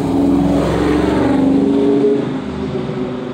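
A car goes by outdoors, its loud engine drone holding a steady pitch and then fading slightly as it moves on, close and alone with no talk.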